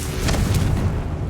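A Confringo fire spell in Hogwarts Legacy bursts in a short, loud fiery blast with a deep rumbling low end, fading quickly.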